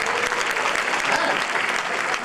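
An evening show audience bursts into applause, a full, dense roar of many hands clapping at once that stays loud and even throughout, with faint crowd noise mixed in.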